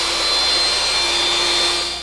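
A belt sander runs steadily on wood at full speed, a loud continuous whirring with a high whine, alone and beginning to wind down at the end.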